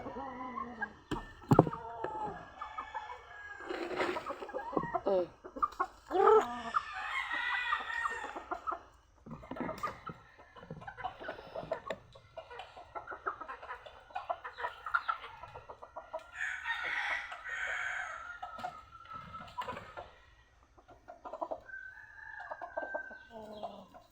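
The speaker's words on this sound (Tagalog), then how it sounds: "Ayun yung manok." Chickens being fed cluck and squawk close by in irregular bursts, with a rooster-like call and some rustling between them.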